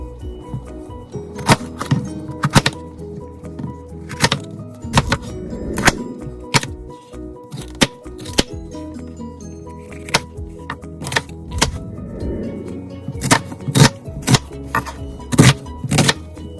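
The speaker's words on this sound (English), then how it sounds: "Now cut vegetables." A knife chops red peppers, onions and chili peppers on a cutting board, giving irregular sharp knocks and thuds, sometimes in quick clusters and sometimes spaced out, close and fairly loud.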